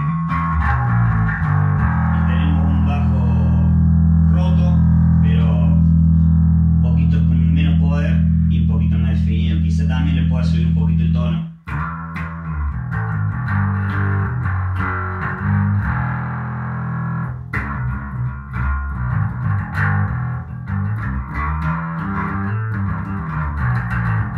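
Electric bass played through a distortion pedal with the blend and gain turned down, giving a thick, sustained low tone with slight grit and effects coloring, loud and continuous with a brief cutoff midway before the playing resumes.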